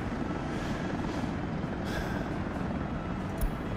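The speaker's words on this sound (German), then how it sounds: "Ich weiß gar nicht, wo der Helikopter hinfliegt." Helicopter flying in the city-building game Workers & Resources, a steady broadband rotor drone held at an even loudness throughout, with no talk.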